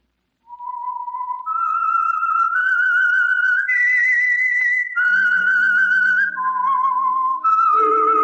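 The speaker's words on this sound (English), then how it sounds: "That whistle is your signal for the Signal Oil program" The whistled theme of The Whistler radio program: a lone tune rises and falls in a slow, eerie melody, clear and close, joined near the end by soft low instruments.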